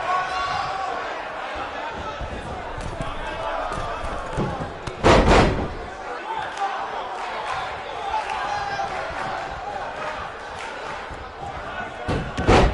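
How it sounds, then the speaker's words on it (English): Scoop slam in a wrestling video game, a sharp heavy thud of a body hitting the mat cutting through steady crowd noise and commentary, with another impact near the end. "Scoop slam."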